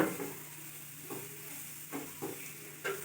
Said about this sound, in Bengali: এই যে চষিটা যেটা বানানো হয়েছে এটা বাটারে ভেজে নেওয়া হচ্ছে